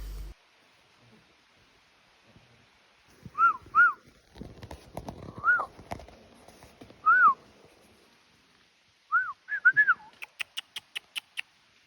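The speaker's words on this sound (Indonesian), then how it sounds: "kicauan burung yang bersautan" Birds on a mountain trail on Rinjani give short whistled chirps and upslurred calls in scattered pairs, answered by a quick rapid series near the end, clear against quiet background with some nearby rustling and footsteps.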